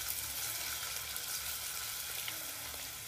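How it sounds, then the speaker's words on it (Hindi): Ginger garlic paste sizzling in hot oil with golden brown onions over a low flame, a faint, steady frying hiss with soft crackles throughout and no voices. "अब इसके अंदर हम अदरक लहसुन का पेस्ट डाल देंगे।"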